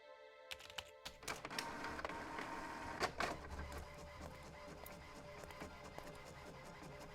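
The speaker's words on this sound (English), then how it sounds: "The card is inside the printer, ready to go." In the video game Monolith, a printer prints a picture onto a card with faint mechanical clicks and a low whirring feed that runs on steadily.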